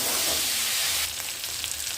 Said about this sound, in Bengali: এটা একটু কষিয়ে নেব।